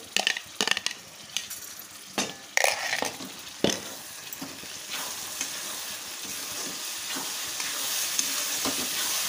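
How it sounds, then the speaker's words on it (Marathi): Tomatoes frying in oil in a pan for Kolhapuri misal, a steady sizzle with several sharp clatters of stirring early on, settling into a continuous close frying hiss. "टोमॅटो पण असं तेल सुटेपर्यंत भाजून घ्यायचं आहे."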